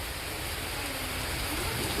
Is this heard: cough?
no